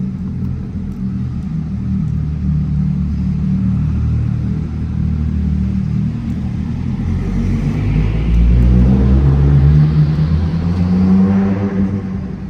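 A Toyota Chaser's engine idles while warming up after work on a coolant leak, a deep steady rumble up close that swells louder toward the end with a subtle rise in revs, with no voices.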